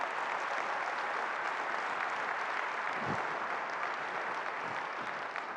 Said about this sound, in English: Can we get an applause for the Cactus Quartet out there?